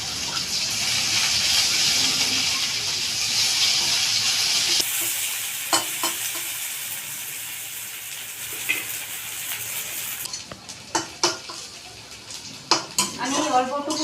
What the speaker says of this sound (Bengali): পেঁয়াজ কুচিগুলো দিয়ে দেবো, পেঁয়াজগুলোকে আমি ভেজে নেব।